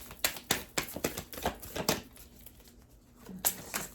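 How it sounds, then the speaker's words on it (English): A deck of tarot cards is shuffled by hand, giving a run of quick, crisp riffling bursts and slaps in an uneven rhythm, close and moderately loud, with a short pause before a final flurry. "so I shuffle the deck like this"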